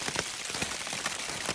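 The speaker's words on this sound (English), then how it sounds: "I'm just going to listen to the pitter-patter of the rain hitting my tarp" Rain patters steadily on a Hammock Gear Palace tarp over a camping hammock, a dense close spray of fine drops with small irregular taps, continuous and fairly loud.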